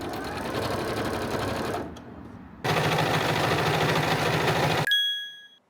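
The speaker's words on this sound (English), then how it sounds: "First I'm gonna sew this one onto here and that one onto this." A sewing machine stitches a pocket bag lining seam in two loud, fast, steady runs separated by a brief pause, ending in a faint metallic ring as it stops.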